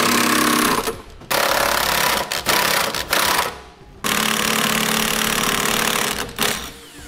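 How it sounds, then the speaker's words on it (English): A power tool drives trailer hitch bolts on a 2011 Honda CR-V in loud, close bursts of rapid rattling, broken by short pauses between runs. "Now we can start by tightening our hardware on the sides of the hitch first."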